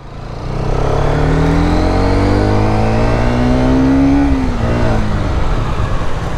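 A Yamaha XMR 210 motorcycle revs up close and loud, its engine pitch climbing steadily for several seconds before easing off, with no talk over it.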